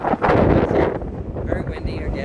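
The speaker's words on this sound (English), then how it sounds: "Very windy again." Strong wind buffets the microphone on a Carnival Victory cruise ship balcony, a loud rushing roar that eases into gustier, lighter noise.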